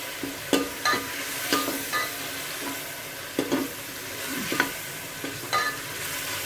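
Spices and spinach fry in a pan for aloo palak while a spoon stirs them, giving a steady soft sizzle broken by repeated sharp scraping strokes at an uneven rhythm, close and clear with no talking.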